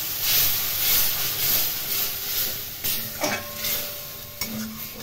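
Water poured into a hot pan of onion, garlic and ginger paste for a Bengali-style pabda fish curry, giving a steady broadband sizzle and hiss with a few stirring scrapes and clinks, close and fairly loud, no talking.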